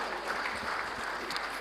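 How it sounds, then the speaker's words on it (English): Audience applause at an agricultural conference as a panel session closes, a soft, steady wash of many hands clapping, heard at a distance and fairly quiet throughout the short stretch. "A round of applause for the panel"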